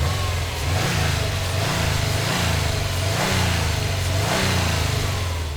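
A turbocharged, intercooled Subaru WRX engine accelerates hard, its revs climbing in repeated rising surges, loud and close, with no talking.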